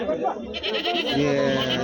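Goats bleat at a busy livestock market in Anantapur. A drawn-out bleat rises near the end under steady nearby talking and crowd noise.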